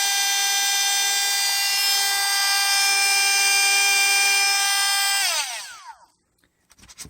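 A Hypertough 8V Max cordless rotary tool whines steadily at high speed, a loud, close, pure multi-toned hum that holds for about five seconds before spinning down with a falling pitch into near silence.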